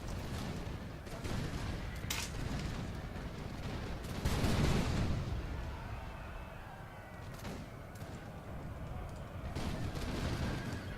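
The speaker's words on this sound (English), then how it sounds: "As you can see, lots of smoke, lots of gunfire" Musket gunfire in a Napoleon Total War battle at Friedland, with dense, overlapping volleys crackling continuously and a heavier swell of fire in the middle, all alone with no talk.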